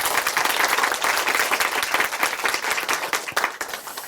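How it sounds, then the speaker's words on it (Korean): A church congregation applauds loudly and close, many hands clapping in a dense, brisk burst that thins slightly toward the end. "우리 자매님 박수로 응원해"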